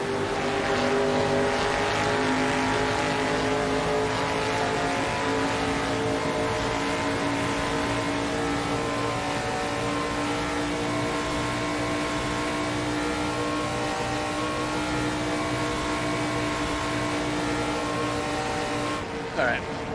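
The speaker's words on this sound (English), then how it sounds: "Also, these cars are pretty freaking loud." Loud 1971 NASCAR race-car engines in the racing game Assetto Corsa drone steadily at high revs for the whole stretch, a dense continuous roar with no pauses.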